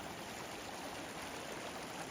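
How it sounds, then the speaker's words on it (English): A river rushing through a New Mexico canyon, its steady roar of water a constant broadband wash with no breaks, moderately close and heard on its own without any talk. "Some raging rapids down here."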